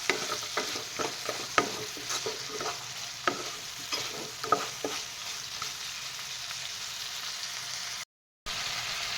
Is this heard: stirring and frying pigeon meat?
yes